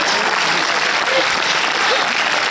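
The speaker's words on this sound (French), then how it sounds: "Et les gens applaudissent." Dense, continuous applause fills a cinema hall, many hands clapping together at a steady, loud level with a faint voice or two buried underneath.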